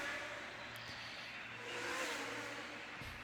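A race car engine in the video game Golden Lap drones steadily and faintly, its note swelling slightly midway as it revs, with a soft whoosh near the end.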